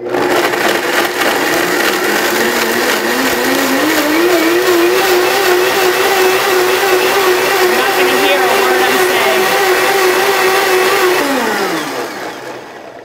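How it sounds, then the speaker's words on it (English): A blender runs hard chopping dates, its motor whining loudly and steadily for about eleven seconds with a rising then held pitch before spinning down at the end, close up. "You're gonna wanna blend this pretty powerfully."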